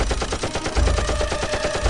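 Rapid automatic gunfire from the Lego Spider-Man video game, a dense continuous burst of shots running the whole time with no speech, loud and close.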